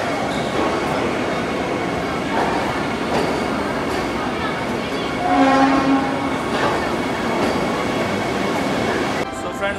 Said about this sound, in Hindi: Vande Bharat made in India train.